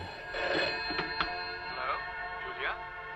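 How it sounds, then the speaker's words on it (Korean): A telephone rings repeatedly in a scene from a psychological horror film, a steady electronic ringing tone heard under someone speaking. "매그너스가 그녀의 집에 전화를 걸어오고"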